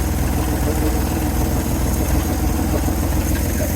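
A steady, rumbling 1970 Chevrolet C-10 pickup engine idles continuously, rough and low, with no breaks or voices.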